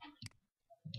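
Two sharp computer mouse clicks, one near the start and another near the end, each short and close with quiet gaps between, heard while drawing a spline in SolidWorks.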